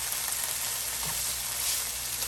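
Chopped, skinned tomato frying in a pan for pabellón criollo, a steady close sizzle with bright crackling over a low background hum, no voices.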